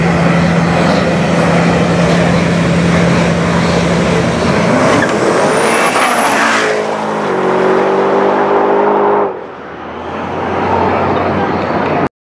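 A Mustang drag car making a test launch: a loud engine held at a steady drone, then revving sharply upward and screaming as it pulls away, fading abruptly near the end, with voices underneath.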